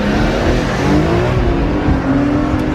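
A 900-horsepower Cadillac CTS-V with full bolt-ons accelerates hard in a street race, its engine a loud, steady, sustained roar that climbs gradually in pitch without a break.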